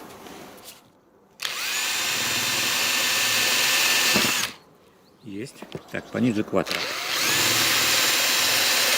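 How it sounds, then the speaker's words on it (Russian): An electric drill bores holes in coconuts in two sustained high whining bursts, and someone speaks briefly between them over scattered handling clatter. "Я, в принципе, сделаю во всех остальных кокосах отверстия"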